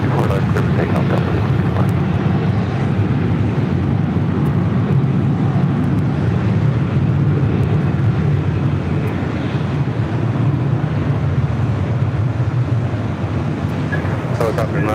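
A Delta airliner taking off from runway 24 left at LAX, a steady, loud broadband engine roar with wind rumble holding throughout, while voices talk over it.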